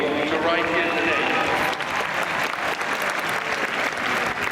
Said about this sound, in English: Please give another round of applause to everybody in the audience